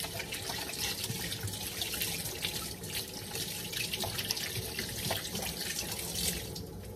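Tap water runs steadily into a sink during handwashing with soap, a continuous close splashing rush with no talking over it.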